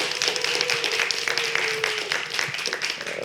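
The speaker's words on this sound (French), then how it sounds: "On les applaudit, s'il vous plaît." Studio audience on a French game show claps for contestants, a dense, steady patter of hands with a faint sustained tone running beneath, filling the moment without speech.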